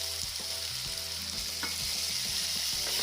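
Raw banana and potato pieces frying in a pan for an Odia masala dish, with a steady bright sizzle throughout and occasional stirring scrapes, no talking.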